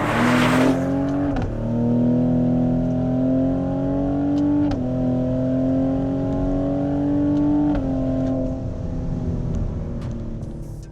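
A 2020 Cadillac CT5-V, a 360 hp all-wheel-drive sedan, runs its engine in a steady, fairly loud drone, rising in pitch through two or three gear pulls with brief dips between shifts, heard close and without talk.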